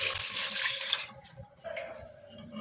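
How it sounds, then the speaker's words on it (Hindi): Water pours steadily into a pot of browned beef for nihari, a bright rushing splash that thins and settles into a softer trickle, close by. "अब मैं इसमें पानी डाल दूँगी"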